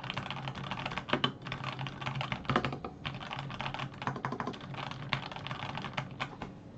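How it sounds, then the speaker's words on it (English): Rapid clacking keystrokes on a mechanical keyboard with lubed Tangerine C3 switches, close and crisp, in an uneven running rhythm with occasional louder presses. "It's built with Tangerine C3 switches, which have been lubed"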